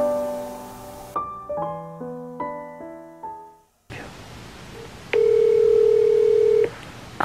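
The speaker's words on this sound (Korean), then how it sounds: "그는 전화를 받을 것인가?" Phone call sounds: a run of stepped dialing tones, then after a pause of hiss a single steady ringback tone holds for about a second and a half, loud and clear with no talk over it.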